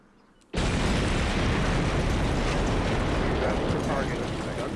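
A targeted building explodes during an air strike in a combat game, beginning with a sudden loud blast out of near silence and settling into a sustained roaring rumble that holds at full strength.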